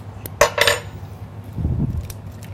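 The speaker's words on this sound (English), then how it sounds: "Just going to take these chunks out, because I'm just going to cut them with my knife" Cutlery clinks against a plate as a knife and fork cut bruschetta into chunks, two quick sharp taps near the start and then a softer scraping rub, close and brief.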